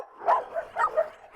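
A Rottweiler gives a few close, short barks and yips in quick succession, with a whimpering edge between them, fairly loud and with no talking.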